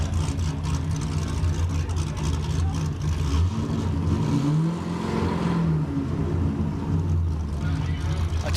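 A 2008 Corvette Z06 and a BMW racing side by side on a Kansas dragstrip during Rocky Mountain Race Week, a steady roar of engines with a rising then falling pass midway, beneath an announcer talking.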